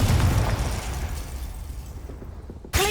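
A Confringo fire spell detonates in the Hogwarts Legacy video game. A booming blast opens the clip and rumbles down into noisy decay, then a sudden second burst with a ringing tone hits near the end.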